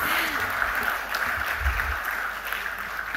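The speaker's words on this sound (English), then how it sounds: "So can we give a big round of applause to Bird Academy, please?" Audience applause fills a hall at an event celebrating women in aviation, a steady wash of clapping that holds evenly for the full few seconds.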